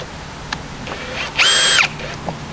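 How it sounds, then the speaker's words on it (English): A cordless power drill spins screws into plastic flat-pack furniture parts, a short steady whir rising for about half a second before cutting off, with faint clicks around it. "I'm going to use my drill just for speeding up the process"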